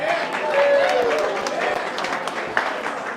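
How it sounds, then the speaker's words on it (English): Applause from guests at a wine tasting event, a moderate wash of clapping with some distinct nearby claps, mixed with crowd murmur and a voice briefly carrying over it. "let's give them a great round of applause."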